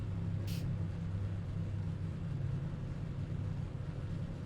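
ARCA race car in iRacing at Kansas Speedway, a steady low engine and exhaust drone holding an even pitch throughout, fairly quiet and unbroken, with no voices.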